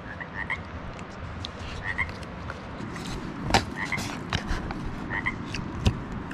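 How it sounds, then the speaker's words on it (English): Frogs croak in repeated short bursts against a dense steady outdoor chorus at a remote mountain truck campsite, with a few louder clicks and no talk. "Do you want a little bite, Mr. Frog"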